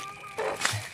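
A brooding hen clucking close by, a short burst of throaty clucks in a quiet rural setting with no talk over it.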